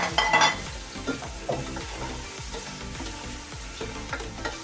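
Plenty of chopped tomatoes hit a hot frying pan and sizzle steadily, a loud hiss at first that settles into a continuous fry with occasional scraping of a stirring spoon, no one talking.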